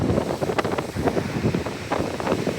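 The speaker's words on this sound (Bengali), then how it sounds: "কিরকম বাতাস" Strong wind roars and buffets the microphone in continuous rumbling gusts near a dam on the Seneca River, New York, with no voices.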